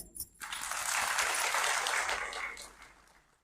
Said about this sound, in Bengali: আমাদের শিক্ষকদের একটি করতালি